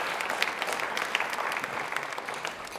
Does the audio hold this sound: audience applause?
yes